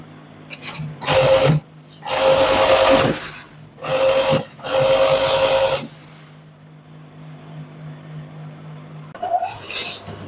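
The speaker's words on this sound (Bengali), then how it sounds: "এইভাবে ওভারলক করে নেবেন 2 হাতায়" Overlock sewing machine stitching the sleeve joint of a burqa, running in four loud bursts of whirring stitches separated by short pauses, with quiet room noise afterward.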